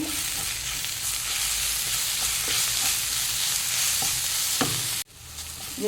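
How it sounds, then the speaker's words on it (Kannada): Mushrooms frying in a pan with garam masala and turmeric, a loud steady sizzle with spatula scrapes and taps, then a sudden cut near the end. "ಇವಾಗ ಒಂದು ಚಮಚ ಗರಂ ಮಸಾಲೆ ಪುಡಿ ಹಾಕ್ತೇನೆ ಆಮೇಲೆ ಒಂದು ಅರ್ಧ ಚಮಚ ಅರಿಶಿನ ಹುಡಿ ಹಾಕ್ಕೊಂಡು ಫ್ರೈ ಮಾಡ್ಕೊಳ್ಳಿ"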